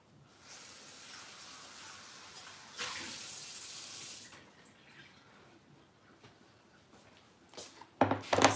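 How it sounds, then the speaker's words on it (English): Kitchen tap water runs steadily as something is rinsed, a soft hiss that swells louder for a second or so before easing off, with a few splashy clatters near the end. "I'm going to rinse this a little bit again"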